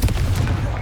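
A Confringo fire spell cast in the Hogwarts Legacy video game lands as a brief, loud, dense blast, a rumbling burst of crackling explosive energy with heavy low boom, sustained without pause for under a second.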